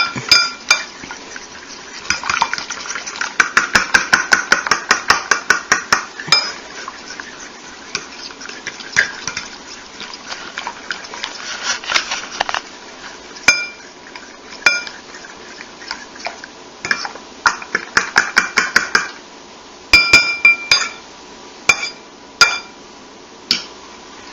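French toast batter is mixed in a bowl with a whisk or fork, making quick clattering taps against the bowl in long fast runs broken by pauses, close and fairly loud, with occasional sharper knocks.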